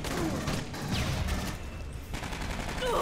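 Laser gun fire in the co-op shooter Aliens Colonial Marines, a steady dense stream of rapid shots over busy game noise with occasional whooshing zaps layered on top.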